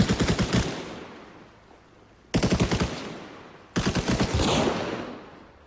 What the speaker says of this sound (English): All that gunfire, just heard a lot of stuff go down.